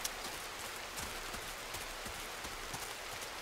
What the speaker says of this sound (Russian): Пусть мрачные тучи, но ненадолго. Ливень.